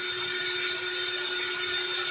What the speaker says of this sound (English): just drilling through from that centre point